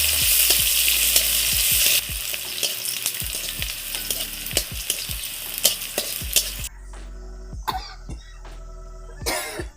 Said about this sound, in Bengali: তারপর শুকনো লঙ্কা ভেজে নিয়েছে তারপরে রসুন আর পেঁয়াজটা দিয়ে দিল